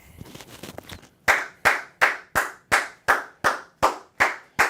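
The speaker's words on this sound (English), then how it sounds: "Clap it up to Georgia Tech" After a brief soft rustle, one person claps close by in a slow, even rhythm, about ten sharp, isolated claps spaced roughly a third of a second apart.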